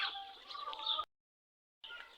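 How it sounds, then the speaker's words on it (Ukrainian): Chicks chirp and cluck in a busy cluster outdoors, close and fairly loud, with a short break of silence before the calls resume. "тут у нас курчата вже на дворі"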